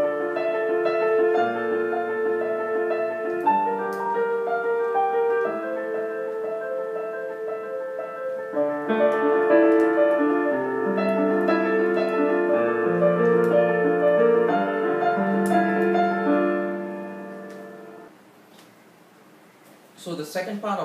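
Piano plays the lower part of a piece, moving from the fourth intro section into the verse in steady sustained chords and bass notes, fading near the end before a brief noisy tail.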